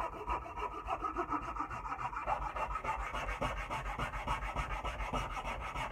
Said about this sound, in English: So I'm just gonna use my file on this side because it was just pinching on this side.